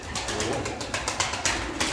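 Ala and costume pigeons cooing in a spacious, high-ceilinged loft, a steady bed of soft overlapping coos and rustling with a few brief sharper flutters or calls, close and fairly quiet.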